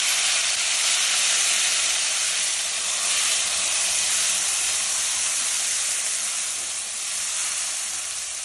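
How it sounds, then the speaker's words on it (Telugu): Masala paste fries in oil with cumin seeds, giving a loud, continuous, close sizzling hiss that barely changes throughout. "ఇప్పుడు కొద్దిగా మనం దీన్ని ఫ్రై చేయాలి"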